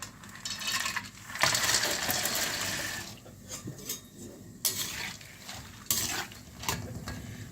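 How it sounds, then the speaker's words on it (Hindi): Cashews tumble into hot ghee in a pan, giving a bright, hissing fry with bursts of clatter and stirring scrapes, close and loud, with no voices. "घी हमारा हो गया है गरम। अब इसी में हम डालेंगे अपने काजू"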